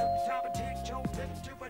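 Doorbell ringing in The Sims video game: a soft chime tone sits under a muffled game background, with a brief sharper ding partway through.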